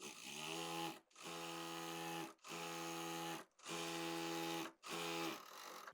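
A sewing machine stitches fabric for a palazzo in five steady whirring runs of about a second each, separated by brief pauses. The sound is close and even, with no talk.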